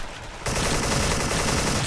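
Dense, continuous burst of rapid AK-74 gunfire in a video game erupts after a brief quiet moment and keeps rattling loudly to the end.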